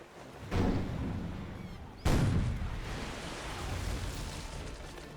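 Cannon fire during a naval battle in the Captain Blood video game: two heavy booming blasts about 1.5 seconds apart, each followed by a long rumbling decay, with no talking.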